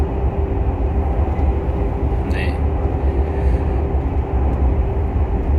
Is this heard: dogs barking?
no